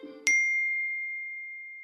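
A single bright phone notification ding cuts in after a brief low musical tone, then rings out as a long, pure, slowly fading chime.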